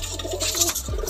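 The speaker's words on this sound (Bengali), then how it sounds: "দাদার ঘরে এবার একটা ভুই লোটন পায়রা রয়েছে, এই যে এই পায়রাটা রয়েছে।" A Lotan pigeon indoors gives a soft, close, low coo over a steady background hum.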